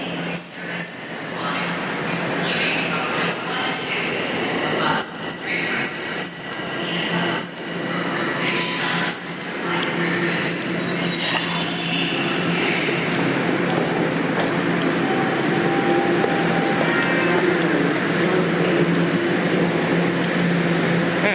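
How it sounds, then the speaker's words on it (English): A Toronto subway train rumbles and squeals along the rails at Dupont Station, with bright metallic screeches and a steady roar building as it pulls into the platform. "No, that's the southbound train."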